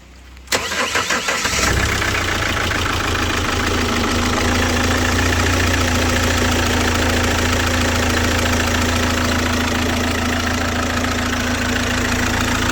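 A Chevrolet Captiva diesel with NFL AWD cranks briefly and catches within about a second, then settles into a loud, steady, slightly knocking idle that runs on without change and without voices.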